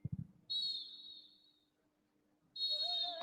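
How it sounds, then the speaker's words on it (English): A referee's whistle at a football match blows two long, shrill blasts to end the first half: a sustained tone of about a second, a pause, then a second blast starting, loud and clear over faint crowd noise. "the referee blows the whistle to bring the first half to an end"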